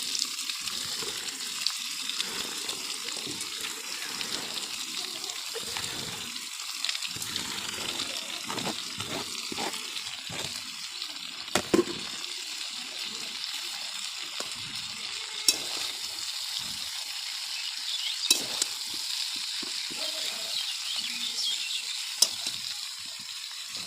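Cabbage and green peas frying in a pan, a continuous bright sizzle with scattered stirring knocks and scrapes, steady and close for the whole stretch, with no talking.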